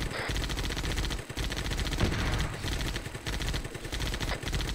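Rapid automatic gunfire from a Gauss gun in the video game ARMA 3 with a Halo ODST mod, a dense, continuous loud burst of repeated shots with brief dips, no talk over it.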